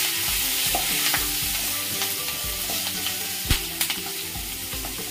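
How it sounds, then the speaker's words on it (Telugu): Dried red chilies, green chilies and mustard seeds frying in hot oil for a tempering, a steady loud sizzle with spoon stirring and occasional sharp pops and clinks of the pan, no talk. "కొంచెం ఎండుమిరపకాయలు పచ్చిమిరపకాయలు ఆవాలి కొంచెం ఎక్కువ వేసుకుని ఫ్రై చేసుకుంటే బాగుంటుంది"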